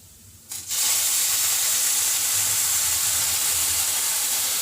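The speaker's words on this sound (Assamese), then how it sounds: "এতিয়া মই ইয়াতে অলপ গাখীৰ দি সিজাই ল'ম" Milk hits a hot pan after frying and bursts into a loud, close sizzle. A quiet moment is followed by a sudden rush of hissing steam that stays steady to the end.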